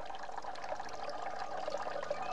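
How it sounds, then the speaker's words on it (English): Water streaming out of holes punched in a can, a steady hissing splash of liquid running continuously and fairly close, with no talking. "why does the water flow out like that"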